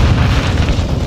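A grenade blast in Call of Duty Modern Warfare 2 multiplayer, a deep, loud rumbling boom that fills the whole moment with dense low-end roar and no clear break.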